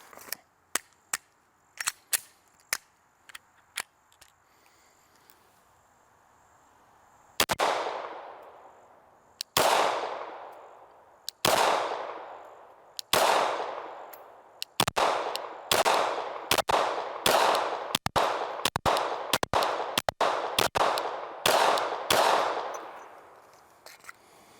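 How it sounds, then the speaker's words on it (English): Glock 49 pistol firing a magazine of regular ammo outdoors, a few faint early pops followed by loud sharp shots with echoing tails, spaced at first then quickening into a steady string of rapid reports. "load this thing up and start putting some rounds out of it"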